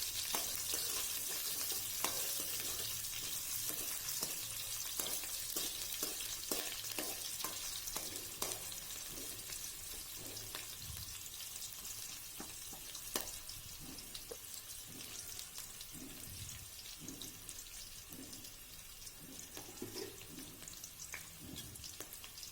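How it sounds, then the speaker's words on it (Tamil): Onions sauté in hot oil in a pan for vataalai thandu (banana stem) sambar, sizzling steadily throughout with frequent scraping stirs of a spatula and occasional clinks, close and fairly quiet with no talk. "வெங்காயம் சேர்த்ததுக்கப்புறம் நல்லா வதக்கி விட்டுக்குங்க."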